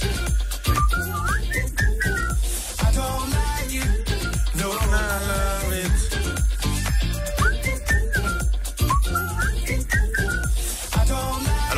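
A bright whistled melody carries over a full, driving pop arrangement with steady beat, the tune rising and falling in short repeating phrases.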